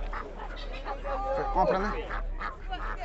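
Ducks quack and honk among other fowl at a Brazilian goat fair in Cumaru, Pernambuco, their calls mixed with steady crowd noise while someone talks over them.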